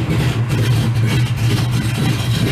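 A 1986 Chevrolet Monte Carlo V8 engine idles steadily while warming up, a loud, continuous low rumble with an even pulse throughout, no voices over it.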